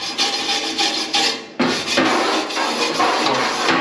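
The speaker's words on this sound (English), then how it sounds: "I just use like it's a soft metal bristle brush" A soft metal bristle brush scrubs the burner gas holes of a ventless gas wall heater in short, rasping strokes. The scraping is close and repeated and stops briefly partway through.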